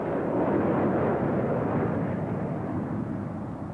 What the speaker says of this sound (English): The Austrian Karo Oss Aerobatics Group perform in the Saab, which is capable of over 600 miles per hour